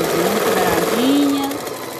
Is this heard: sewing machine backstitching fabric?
yes